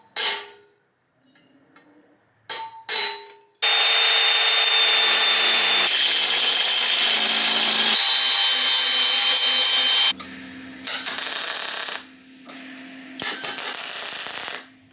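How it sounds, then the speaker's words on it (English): Welding an exhaust bung for an EGT probe onto the exhaust: a short sputtering burst, then a loud, steady crackling hiss for about six seconds, followed by several shorter bursts of arc crackle with brief pauses between them. "Basically just going to weld that onto there and happy days."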